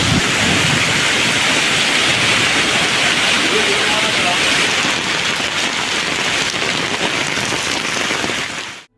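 Heavy monsoon rain pouring down in Karwar, a dense, loud, unbroken roar of water hitting surfaces that holds steady for the whole stretch.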